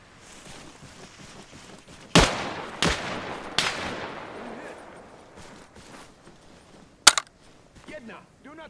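Gunfire in the military video game ARMA Reforger: a few loud, sharp shots with echoing tails spaced over several seconds, one more crack later, and quiet voices between them.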